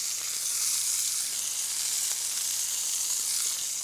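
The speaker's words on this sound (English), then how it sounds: "I'm gonna add some butter to the pan." Butter sizzling in a hot pan alongside a seared London broil steak, a dense steady crackling hiss with faint pops, close and uninterrupted by talk.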